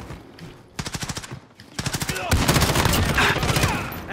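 Automatic gunfire from Call of Duty Modern Warfare rattles out in rapid bursts, first a short volley, then a longer sustained stream of loud shots.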